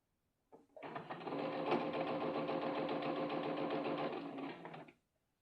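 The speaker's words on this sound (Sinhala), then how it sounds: "පින්ස් ගලව පරිස්සමට මහන්න" A sewing machine stitches a strap onto a garment in one continuous run of about four seconds, a dense close whirring chatter that starts abruptly and stops cleanly, with no talking.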